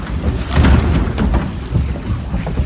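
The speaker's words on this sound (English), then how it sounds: "we're up here in the log flume" Log flume water ride at Six Flags Great Adventure, rushing water and wind buffeting loudly and close, rumbling throughout the short stretch.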